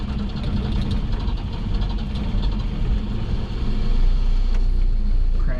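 A 1967 Volvo Amazon 122S engine, with the choke pulled about halfway out, rumbles steadily close by. It swells slightly louder partway through, and no one speaks.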